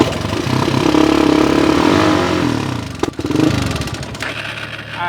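Kawasaki Z400 ATV engine catches and runs after a few pushes, a loud, close, steady mid-pitched motor drone with rattly clatter, briefly dipping and then revving back up.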